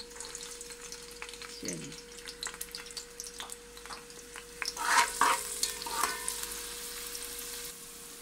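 Small chopped onions fry in a little oil in a cooking pot, a soft continuous sizzle with scraping stirs and clinks, faint and close, with a brief spoken word.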